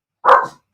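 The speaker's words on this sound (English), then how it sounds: "Let me get my dog quit barking" A dog gives one sharp, loud bark close by indoors, followed by a brief softer yip, with no talk around it.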